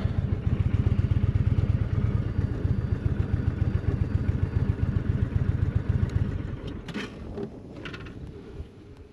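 A motorcycle engine chugs in a rapid, loud idle close by in Petrified Forest, Arizona, then cuts off, leaving a few clattering thumps and quieter ambient noise.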